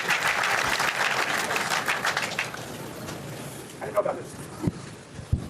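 Audience applause at the Davos World Economic Forum starts full, then thins out and fades over a few seconds, leaving scattered claps and light room noise with faint voices.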